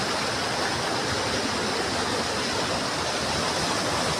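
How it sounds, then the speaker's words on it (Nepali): A rushing river below Mugu waterfall gives a dense, continuous roar of water, loud and close, with no voices over it. "खोलाको आवाजले गर्दा केही सुनिँदैन सायद है।"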